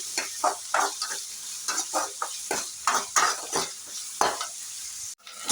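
Mustard seeds, onion, garlic and curry leaves sauté in a pan for brinjal poriyal, giving a steady close sizzle broken by repeated rhythmic scrapes of a spoon stirring against the pan, with a brief clack near the end.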